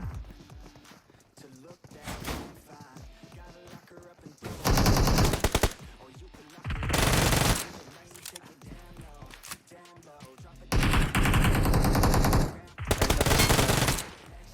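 Rapid automatic gunfire in a video game, several loud sustained bursts of a few seconds each, separated by quieter stretches with excited talk between players.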